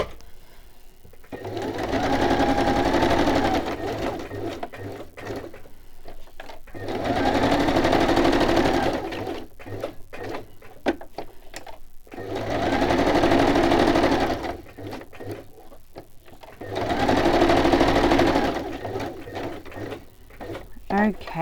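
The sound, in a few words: sewing machine stitching fabric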